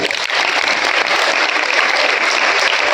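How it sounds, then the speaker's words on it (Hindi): An audience of students and teachers claps continuously at a motivational talk, a dense, even wash of applause that holds steady at moderate loudness. "जोर से ताली बजाओ इसके लिए,"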